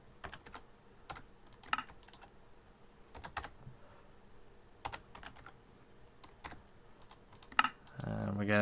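Someone types on a computer keyboard while playing Minecraft, giving quiet, irregular clicks and taps. A voice starts speaking at the very end.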